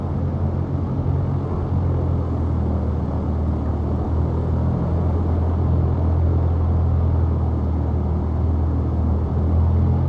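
Simulated Cherokee light aircraft in Flight School touching down on the runway: a steady, loud low engine drone and rumble at idle, continuous throughout with no talk.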